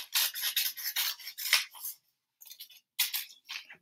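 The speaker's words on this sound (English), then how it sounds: "So thumbs on top, cutting, going to cut nice long lines." Scissors snip through paper while paper letters are cut out, a close, dry rasping run of long cuts in steady bursts, then a short pause and a few shorter snips, with no talking.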